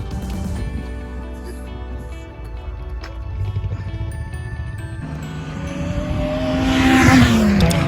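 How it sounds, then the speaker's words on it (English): Race cars on the Grattan Raceway road course during a track day roar past in a steady stream of engine noise with brief tire squeal, the sound swelling louder as a car closes in near the end. "Right now, we're just watching the cars go by at the moment"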